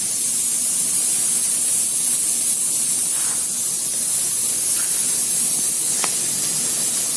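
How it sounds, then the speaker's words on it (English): Steam hisses steadily out of holes drilled in a syringe whose piston has risen, a constant broadband spray-like rush that stays loud and even throughout, with no talking. "this piston has moved up high enough to release steam through these holes that we've made in the syringe"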